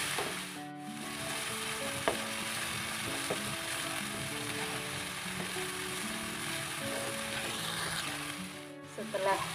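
Lime leaves and lemongrass sizzling and frying in a pan while being stirred, a continuous crackling hiss with occasional scraping and clinking of the utensil against the pan, fairly quiet.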